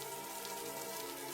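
Continuous rain in an animated village scene, a brief, faint, steady patter with no speech.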